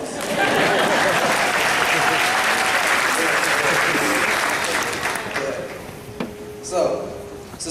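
Graduation audience applauds a speech with dense, loud clapping that holds steady for about five seconds and then thins and fades, with voices heard near the end.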